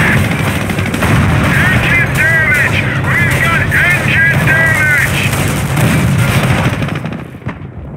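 Gunfire and artillery blasts from a World War II battle in the 2006 PC strategy game Company of Heroes, a dense, continuous barrage of shots and booms beneath a game announcer's voice, fading out at the end.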